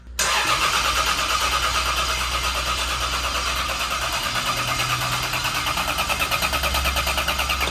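A turbocharged Lexus IS300 fitted with a CT20 turbo cranks on its first start attempt, the starter churning loudly and steadily with a rapid pulsing rhythm throughout, no voices over it.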